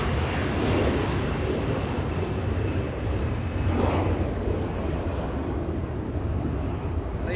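An Airbus A340-600 airliner taxis on a taxiway at Los Angeles International Airport, a broad steady jet roar heard from a distance with wind buffeting the microphone, continuous and fairly loud.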